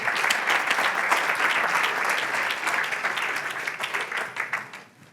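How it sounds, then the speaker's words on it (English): An audience at a banquet breaks into warm, dense applause that holds steady, then thins into scattered claps and fades out near the end. "Give everybody a round of applause."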